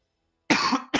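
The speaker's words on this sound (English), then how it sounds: "sorry for always coughing" Two sharp coughs close to the microphone after a short silence, the second one shorter and following quickly.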